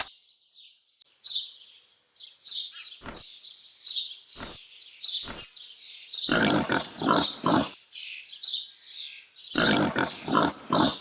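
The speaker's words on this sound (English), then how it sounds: "Pig." A pig grunts in short bursts, first single, then quick clusters, mixed with continuous chirping birdsong throughout.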